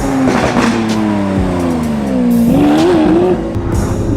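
A Lamborghini Aventador S pulls away with a loud, close engine roar that climbs and falls through gear changes, with brief tire squeal and a rising rev at the end.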